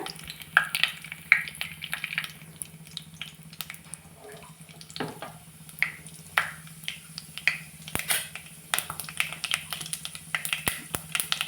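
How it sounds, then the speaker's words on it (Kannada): Mustard and cumin seeds crackle and pop in hot oil, irregular sharp snaps scattered over a low sizzle, close by, with no talking. "ಸಾಸಿವೆ ಜೀರಿಗೆ ಸ್ವಲ್ಪ ಚಟಪಟ ಅಂತಿ ನೋಡಿ."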